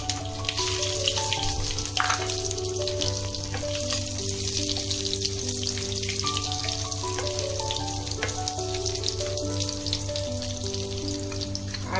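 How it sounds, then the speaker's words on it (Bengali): Potatoes frying in oil in a pan over a low gas flame for a fish shukto, a steady close sizzle with scattered crackles, alone with no voices. "আমি গ্যাসটা কমিয়ে এবার প্রথমেই দেবো আলু"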